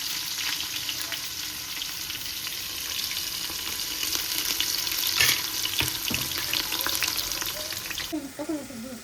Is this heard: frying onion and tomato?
yes